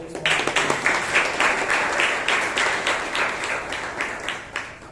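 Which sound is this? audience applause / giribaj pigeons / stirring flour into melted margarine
audience applause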